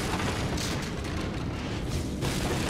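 A sticky bomb detonates in Darksiders Remastered, a loud, dense explosive blast that fills the short moment with a continuous rumbling roar.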